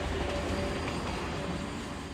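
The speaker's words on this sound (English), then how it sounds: "Trains still rumbled through a secluded section of Unity Village." A train rumbles along a railroad with a steady, dense low roar that does not let up, fairly loud and heard alone.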